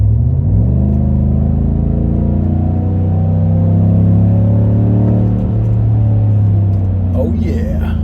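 A Chevrolet Silverado pickup running on E85 fuel pulls hard under acceleration. Its loud, close engine note climbs steadily in a droning rumble, then eases off near the end.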